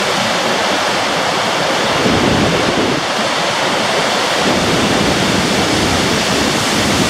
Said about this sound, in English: it's nice to look at, but that's a lot of noise. Your own personal Niagara Falls.